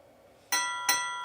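Two bright bell strikes ring out in quick succession during a live show, each with a sharp attack and a clear, lingering metallic tone.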